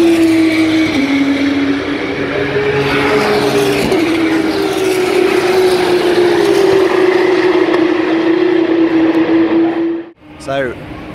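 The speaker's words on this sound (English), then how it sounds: "That's the car coming through now. Let's have a listen." A Formula 2 race car roars past on track at the British Grand Prix, a loud high engine tone sweeping by and then cutting off abruptly, with a brief rev at the end.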